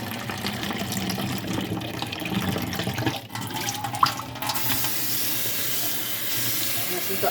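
Cold water runs from a kitchen faucet fitted with a PUR filter mount, a steady close splashing stream that briefly dips and changes tone midway, then flows on more smoothly.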